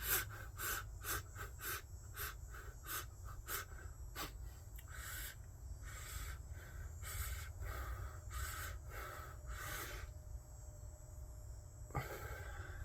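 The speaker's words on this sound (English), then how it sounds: "he does a breath which is actually taking in bunches of breath at one time" Rapid Wim Hof style breathing, many quick breaths taken in bursts, repeating in a steady rhythm of sharp airy inhalations and exhalations, close and fairly quiet, with no talking.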